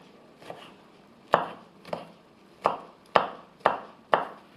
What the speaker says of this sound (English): And then we're just going to quickly slice up this because I want to fry the garlic.